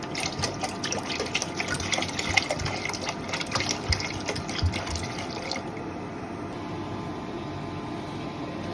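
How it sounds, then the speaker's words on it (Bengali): One kilogram of milk mixed with half a kilogram of water heats in a pot for rice payesh, giving a steady, close bubbling and hissing wash that runs unbroken with no voices. "আর 1 কেজি দুধ জাল হচ্ছে। এই যে 1 কেজি দুধের ভিতরে আধা কেজি পানি।"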